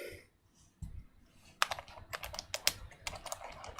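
Typing on a Dygma Defy keyboard fitted with Gateron G Pro 2.0 yellow switches on a metal plate: a quiet start, then a burst of crisp, close clacking keystrokes in an uneven rhythm, with no talking.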